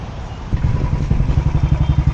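A motorcycle on a test drive runs loud and close, its engine idling steadily before rising into a pulsing, throbbing rhythm.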